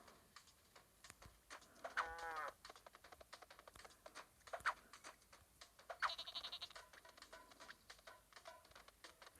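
Goat bleating in the Rodeo Stampede video game, a short wavering bleat amid faint game noise and scattered clicks, followed by quieter animal cries, all fairly soft with no talking.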